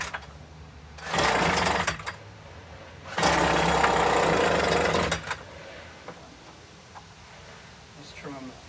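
Homelite UT08572 gas engine firing up in two loud, roughly two-second bursts of raspy small-engine running, cutting out between attempts, with quieter background afterward.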